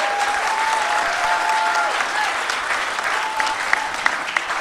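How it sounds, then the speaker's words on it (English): Warm round of applause from a conference audience for the speakers at the 2023 Reclaiming Canada Conference, continuous and full for several seconds with a few sharper claps near the end. "Another round of applause for our speakers."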